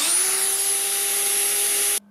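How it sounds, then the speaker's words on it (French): A 1500-watt electric hammer drill running from a portable power station gives a loud, steady high-pitched whine with a constant motor tone for about two seconds, then stops abruptly. "un marteau perforateur, puissance 1500 watts."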